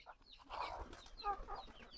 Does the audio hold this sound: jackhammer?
no